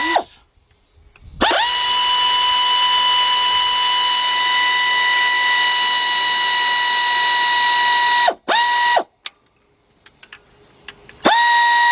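Power drill or impact driver with a 12mm deep socket on a 4-inch extension and 3/8 drive, breaking loose two bolts during timing belt work on an Acura SLX, Honda Passport or Isuzu Rodeo; steady whine for several seconds, then two short bursts.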